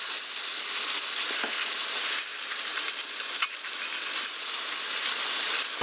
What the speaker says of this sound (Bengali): ভালো করে নেড়ে পেঁয়াজের সাথে মিশিয়ে নিচ্ছি।